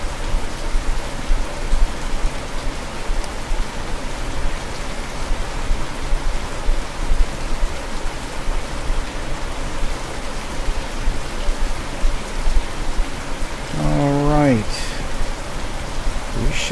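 Steady rain in the Russian Fishing 4 video game at the Volkhov River, a dense continuous hiss of drops on surfaces with no breaks, and a short rising warble near the end.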